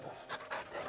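A dog pants in the video game Final Fantasy XVI, a few soft, breathy huffs in quick rhythm, faint and close, with no talking.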